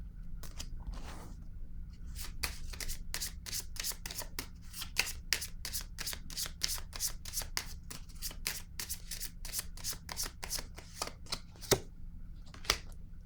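Tarot-style cards handled and laid down one after another in a steady run of crisp, close snaps and flicks over a low background hum, with no talking.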